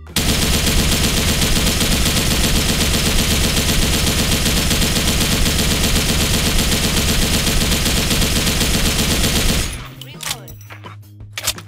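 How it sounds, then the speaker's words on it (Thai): An RPK74 light machine gun fires from a crouched stance in the Special Force 2 video game: a dense, loud, unbroken burst of automatic gunfire lasting nearly ten seconds, then it cuts off, leaving faint clicks and low rumble. "นั่งยิง"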